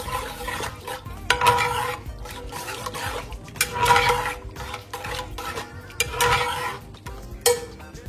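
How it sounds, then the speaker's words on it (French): Grated coconut and curry powder are stirred into a fish curry in a pot, with a close spoon scraping the pan in repeated uneven strokes over a faint wet simmer. "je vais incorporer d'abord la noix de coco râpée, la poudre de curry. Je mélange."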